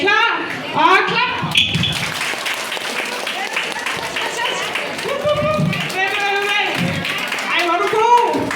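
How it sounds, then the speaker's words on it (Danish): An audience of children claps steadily at a birthday party magic show, with excited kids' voices and shouts mixed in over the continuous clapping. "Så vi klapper alle sammen"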